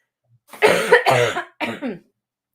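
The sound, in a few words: hacking cough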